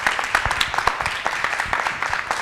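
Applause from an audience at an Islamic talk on ill-gotten wealth, sending off the imam; a dense, steady patter of many hands at moderate level with a few sharper individual claps standing out.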